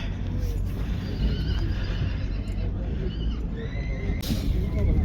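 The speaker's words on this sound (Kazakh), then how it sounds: "Қоғал көлдің жылқысы екен" A horse from a lakeside herd whinnies loudly at a busy livestock market, a few clear neighs over constant crowd chatter and nearby voices.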